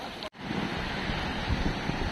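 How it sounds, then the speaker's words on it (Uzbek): Steady rushing of a flowing stream in Kosonsoy, Namangan, Uzbekistan, a continuous close hiss and gurgle with a brief dropout near the start. "Hozir bu soyga ozgina suv qo'shilgan xolos."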